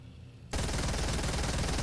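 A video game SMG fires one sudden loud burst after a brief quiet moment, its rapid shots packed into a dense, continuous rattle.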